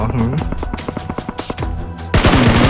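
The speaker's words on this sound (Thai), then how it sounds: "เขายิงรถผมเอง" Rapid automatic gunfire in PUBG Mobile strikes a car in sharp bursts of shots. A louder, denser volley closes the clip, and a voice is briefly heard.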